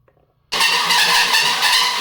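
Drill boring through a steel front entry door for a handle set: a sudden loud, sustained grinding whine that starts abruptly and holds steady for the rest of the clip, close up, with no talking.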